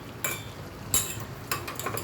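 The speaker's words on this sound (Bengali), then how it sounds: "এই যে এখন আমি নাড়ছি" Stirring a shrimp and sweet pumpkin curry with green chili paste in a pan: a few light metallic clinks and scrapes of the spoon against the pan, close and sparse, with no talk.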